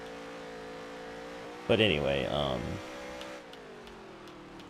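Race car engines in the video game NASCAR Heat 3 at Kentucky in the Xfinity series hold a steady drone, then one roars up loudly for about a second before settling, with people talking over it.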